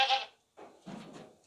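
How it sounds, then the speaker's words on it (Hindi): A tall, long-necked pure Makhi Cheena goat, a two-tooth male, gives a couple of short, close bleats separated by a brief silence. "ऊंचा लंबा, अच्छी हाइट वाला प्योर मक्खी चीना बकरा है।"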